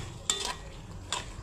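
Pork menudo cooking in a pot is stirred twice with a utensil, giving two short scraping strokes over a low, steady simmer, close by.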